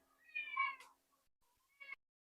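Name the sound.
cat meowing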